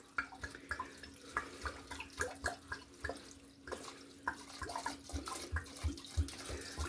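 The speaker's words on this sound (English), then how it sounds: "Wash my hands off there" Running tap water splashes and patters as hands are rinsed under it at a sink, a soft, steady trickle with uneven splashes, fairly quiet and close, with no voices.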